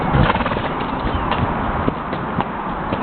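Hooves of a ridden horse clip-clop in a steady rhythm on a nature trail, close and continuous, with a brief whinny-like sound and no one speaking.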